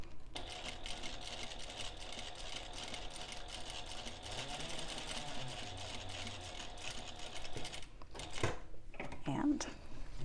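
A sewing machine runs steadily at a regular 3.5 inch stitch length, stitching piping onto a Loule bag. A continuous close mechanical whir fills most of the stretch, then stops, leaving a few soft handling sounds.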